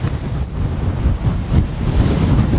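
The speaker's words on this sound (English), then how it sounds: "few managed to sleep through the howling wind and waves" Howling wind and crashing waves during a storm with winds over 100 mph in the Highland town of Mallaig, a loud, constant roar with gusts buffeting the microphone and no voices.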